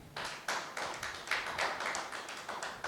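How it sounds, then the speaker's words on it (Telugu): Members of an audience of welfare secretaries clap together in a meeting hall, a dense, rhythmic burst of handclaps with slight pulsing surges, moderately loud and fairly close. "30 అబౌవ్ 30 to 35 మధ్య చప్పట్లు కొట్టండి"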